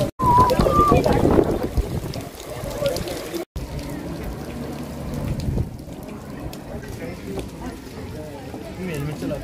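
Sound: rain falling

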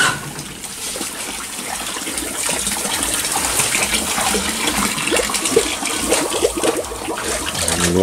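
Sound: water poured into a pig pen

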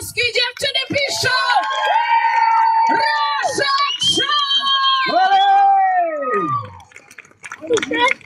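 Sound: crowd applause and cheering at a concert

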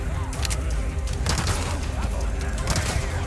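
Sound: gunshots in video game Resident Evil Mercenaries

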